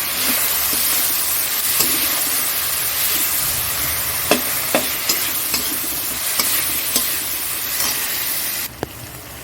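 Spices with turmeric sizzle and fry in a hot pan while a spoon stirs them, a constant hissing fry broken by sharp, repeated scraping strokes close by.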